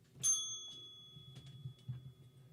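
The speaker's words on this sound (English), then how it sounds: "I was late on the bell." A single bright bell ding rings out as a sound effect on a radio show, sharp at first and then ringing on with a faint sustained tone over a quiet background.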